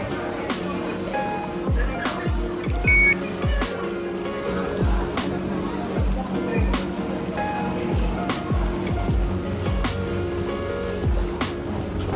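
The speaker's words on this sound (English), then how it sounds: "First Vaporetto ride, here we go." Vaporetto water bus cruising a Venice canal, with a steady low engine drone and water wash, repeated thumps and clatter from the boat, and voices chattering in the background throughout.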